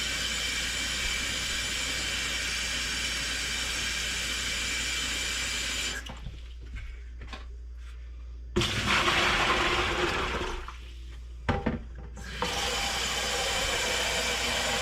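Hot tap water runs steadily into a bucket, stops for a few seconds with some knocks, then gushes again and continues.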